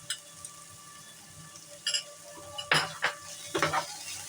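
Turmeric, cumin and Kashmiri chili powder are stirred into prawns for chingri malai curry, with a soft sizzle underneath and several distinct scraping clinks of a spoon against the pan, growing busier toward the end.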